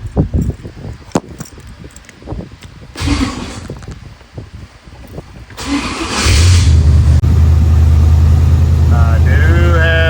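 A Ford Thunderbird engine cranks through a few rough, uneven turns, then catches and settles into a loud, steady idle. A voice speaks briefly over the cranking.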